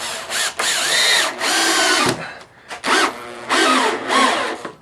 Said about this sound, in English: And then I'm going to drive in a screw, a 3-inch screw.